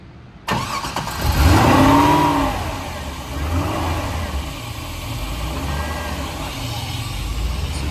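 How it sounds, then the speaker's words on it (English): A 1964 Chevrolet Corvette coupe with an LS2 V8 starts cold: a sharp crank catches and the engine surges loudly before settling into a steady, rumbling fast idle through the exhaust. "So you can get a nice exhaust note."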